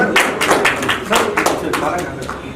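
Audience at a DJ expo clapping to welcome a guest on stage, a short spell of scattered, moderately loud applause with a voice over it.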